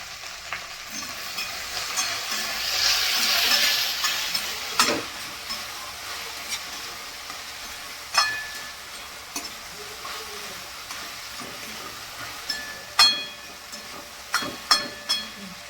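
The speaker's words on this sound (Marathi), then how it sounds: "आता आपली भेंडी दहा मिनटं परतून झाली" Okra for kadhi bhendi stir-fried in a pan at home, faint sizzling broken by scattered spoon scrapes and clinks, getting sharper and more frequent toward the end, with no talk.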